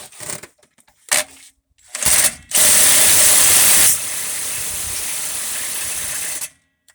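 A battery-powered impact tool spins a Dayton wheel stud in short ratcheting bursts, then hammers loudly and steadily before it winds down and stops as the battery dies. It is close and loud, with no speech.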